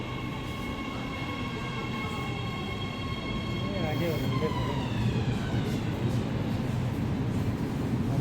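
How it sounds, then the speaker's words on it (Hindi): A Riyadh Metro train pulls into a station with a rising and falling electric motor whine and a steady rumble that grows louder as it nears, amid busy platform ambience. "2 मिनट इंतज़ार करने के बाद ट्रेन जो है हमारी आ जाती है"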